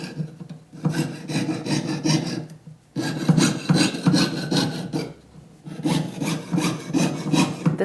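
A jeweler's saw pierces sheet metal in long rhythmic rasping strokes, close and loud, with two brief pauses between bursts of sawing.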